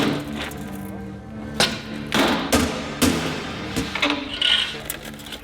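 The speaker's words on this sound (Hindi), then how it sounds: "हम इसे तोड़ देंगे और गोलियां बाहर निकाल देंगे।" Repeated heavy thuds and whacks as a device is smashed open to release drug pills, with irregular loud blows spaced over several seconds, close by.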